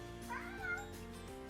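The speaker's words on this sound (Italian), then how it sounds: "Dove cacchio è sto gattino?" A kitten meows in a rising, drawn-out cry around the middle, fairly close and clear over a low steady background hum, with no talking.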